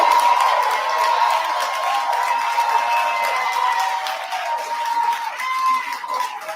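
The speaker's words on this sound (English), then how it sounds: "There's a lot of clapping." An audience applauds at a regular board meeting after a resolution calling for an investigation of a mayor is approved. Steady, dense clapping mixes with crowd noise and cheering, heard at a distance throughout.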